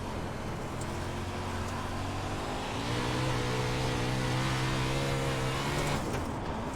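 A race car engine in the iRacing sim holds a steady drone at part throttle while driving through a slick stretch of track, its pitch creeping upward then easing off, fairly loud and continuous with no voice over it.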